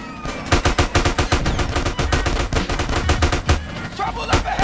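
Rapid bursts of gunfire in the video game GTA San Andreas, dense automatic shots cracking close and loud in a steady stutter for several seconds, with no speech over them.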